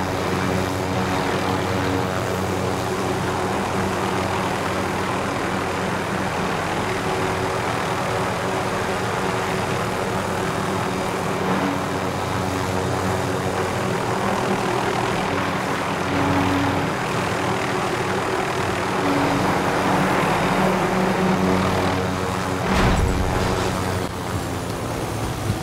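Aircraft engine drones steadily and loudly throughout while piloting in the video game Warzone Plunder, with a continuous propeller-like hum and no pauses.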